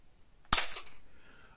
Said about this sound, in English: I have no faith in the gun through tissue